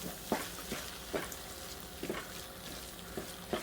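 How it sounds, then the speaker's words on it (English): Rice risotto stirred in an open pot, a soft steady sizzle with regular scraping strokes of the spoon about every second, close and fairly quiet, no voices. "So now you just want to keep the lid off and just stir it"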